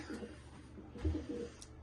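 Pigeons coo softly at close range in a loft, a few low throaty coos over faint rustling and quiet background noise.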